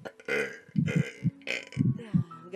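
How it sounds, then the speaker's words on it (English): A person burps several times in a row, low guttural belches close to the microphone mixed in with bits of talking. "Sorry, wait, I gotta burp."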